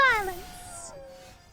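A displacer kitten creature in a Historic Brawl card video game gives a short, bright synthetic meow that slides downward and fades into a thin lingering tone, with no one talking over it.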